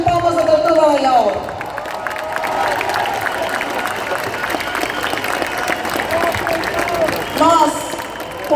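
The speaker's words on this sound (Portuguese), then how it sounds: "peço uma salva de palmas ao Deltan Dallagnol" A street crowd at an Independence Day rally on Avenida Paulista applauds and cheers for Deltan Dallagnol, sustained clapping and crowd noise over several seconds with voices and a loudspeaker voice rising over it near the start and end.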